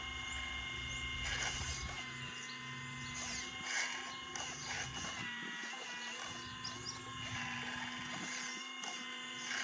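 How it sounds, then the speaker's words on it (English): An RC4WD Earth Digger 360L model excavator digging dirt, its servos whining and buzzing steadily at close range while the bucket scrapes and pushes loose soil, with no voices. "You can actually loosen dirt by pushing it this way with the bucket."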